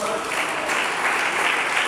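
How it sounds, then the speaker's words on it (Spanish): A church congregation applauds in a steady, dense wash of clapping that stays loud and even throughout, with voices mixed into the crowd noise. "Dele ese aplauso al Señor."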